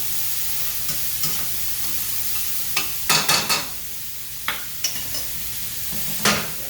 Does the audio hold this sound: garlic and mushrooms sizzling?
yes